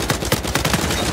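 Rapid bursts of gunfire in an Uncharted 4 multiplayer match, a quick run of loud, close shots in an uneven rhythm with no voices over them.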